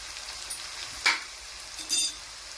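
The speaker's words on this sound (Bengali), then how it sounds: "মোটামুটি আমাদের আদা রসুন বাটাটা ভালো করে ভাজা হয়ে গেছে।" Ginger garlic paste with ground spices fries in a pan, giving a quiet background sizzle broken by three short bursts of stirring or scraping.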